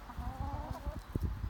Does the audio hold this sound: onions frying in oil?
no